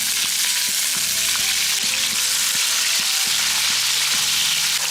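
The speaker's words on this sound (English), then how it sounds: "Fry the onions until they become light brown in color." Sliced onions fry in heated oil in a pan with a loud, continuous hiss and crackle that holds steady from start to end, with faint intermittent knocks underneath.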